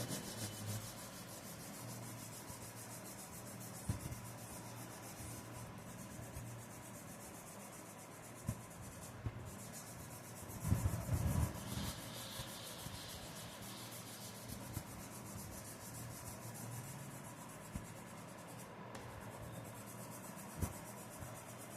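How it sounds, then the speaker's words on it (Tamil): A colour pencil shading lightly on paper in even, single-direction strokes, producing a soft continuous scratchy rubbing that stays faint and close, with a short louder burst of scraping midway and a few small taps. "பென்சிலை லேசாக அடிக்கும்"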